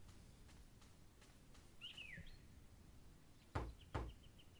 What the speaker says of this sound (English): let's go knock on the door